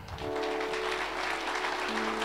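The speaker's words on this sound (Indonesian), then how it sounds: "Tepuk tangan." Audience applause at a church gathering, a steady, dense wash of clapping that fills the whole short stretch without pause.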